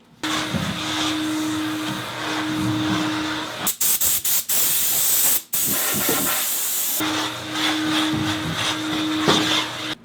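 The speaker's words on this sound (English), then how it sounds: "then I'll blow compressed air around everywhere" A steady, loud hiss of compressed air blowing close by in a garage, continuing for several seconds with short bursts and a few brief interruptions.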